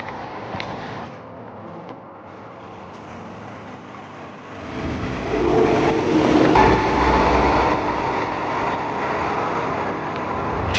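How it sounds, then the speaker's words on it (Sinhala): A train pulls into a station in Sweden, its low rumble and mechanical rolling swelling from a quieter start into a louder, closer drone that holds steady through the second half. "ට්‍රේන් එක ඉතින් එනවා"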